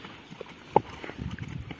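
Horse walking in a circle at a slow pace during reining spin training: a few soft, scattered hoof thuds over a quiet outdoor background.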